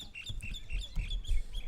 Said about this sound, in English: and those birds whining.